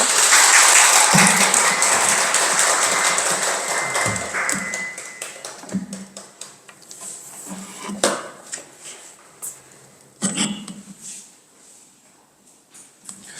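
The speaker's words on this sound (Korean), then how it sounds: "큰 박수로 맞이해 주세요" An audience at a doctrine study session applauds to welcome a lecturer, dense clapping at first that thins into scattered taps and a few thumps as it dies down.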